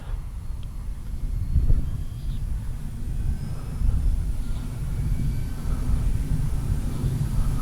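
An E-flite Beechcraft D-18 twin-engine RC model airplane cruising overhead, a faint steady motor whine buried in outdoor wind rumble, fairly distant and continuous throughout.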